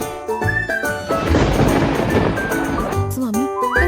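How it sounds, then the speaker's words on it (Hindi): Cartoon-style thunder crash with rain, a loud broad rumble swelling in the middle of the clip between bursts of music and voices. "ये बिना मौसम की गरजती हुई बारिश हमें क्या संकेत देती है?"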